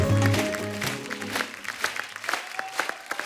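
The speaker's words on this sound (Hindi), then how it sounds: "जोरदार तालियां एक बार पंकज सर के लिए।" Audience applause greets actor Pankaj Kapur as he comes on stage, a loud burst of clapping that tapers into scattered claps while a voice speaks over the start.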